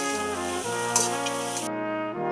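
Moringa leaves fry in a pan as they are stirred, giving a close, steady sizzle with soft scraping under a harmonic hum.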